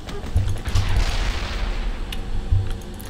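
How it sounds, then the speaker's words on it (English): Explosions in the video game The Last Stand 2 come as several deep booms, spaced out and fairly close, with rumbling between them. "That explosion was so awesome,"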